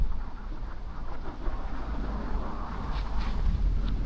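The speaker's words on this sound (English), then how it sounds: "we can hear the rain coming, like pretty full on." Steady broadband roar of heavy rain drumming outdoors at night in Innisfail, Australia, constant and full, with a low rumbling wash underneath and brief brighter hisses near the end.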